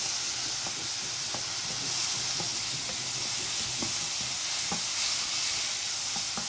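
Small diced tomatoes for ful sizzle in a hot pan, a constant loud frying hiss with a few soft stirring taps and pops scattered through.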